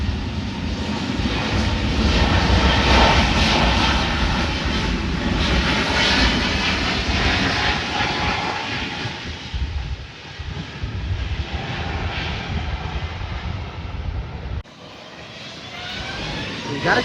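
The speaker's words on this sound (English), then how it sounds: "3831 heading to Atlanta Hartsfield Jackson on an A320 Neo. Now rolling down runway 8 here at the North Complex." An Airbus A320neo roars down runway 8 on its takeoff roll at the North Complex, a loud broad jet rumble that swells early, then gradually eases and fades.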